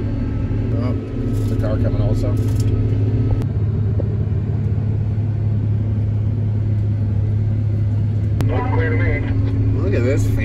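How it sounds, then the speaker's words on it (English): A car passing on a narrow rural road during wheat harvest, next to a large combine; steady low engine rumble dominates throughout, with brief higher-pitched mechanical whines near the start and end. "There's a car coming also."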